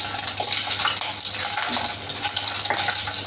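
Whole dried spices, chilies, cardamom, cinnamon, cloves and bay leaf, sizzle and crackle steadily in hot oil in a pan for an egg and potato curry, with occasional stirring scrapes, close and continuous.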